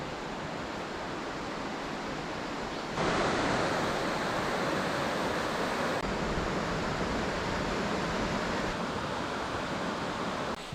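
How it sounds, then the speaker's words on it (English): A river along a Kumano Kodo mountain trail in Japan flows with a steady, dense rushing roar. The sound is continuous and even, heard alone without voices, and swells slightly louder partway through. "Can hear the river too"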